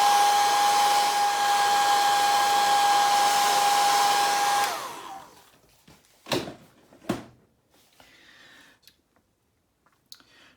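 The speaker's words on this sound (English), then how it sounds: "You can also do it, of course, with a hair dryer." A hair dryer blowing on varnish, a steady loud whirring hum for about five seconds before it is switched off, followed by a few sharp clicks and handling knocks in near silence.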